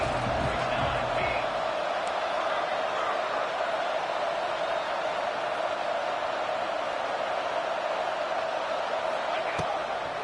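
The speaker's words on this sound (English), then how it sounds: "Crowd getting this defense whipped up on 3rd down" Dense, roaring stadium crowd at an Ole Miss college football game on third down, a constant broad wash of cheering and noise, loud and sustained throughout with no pauses.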